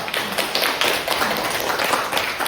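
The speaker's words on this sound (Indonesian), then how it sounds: "tepuk tangan kepada kelompok 2 ya" Students in a classroom clap for a group after its presentation, a close, brisk patter of hand claps running steadily through the short stretch.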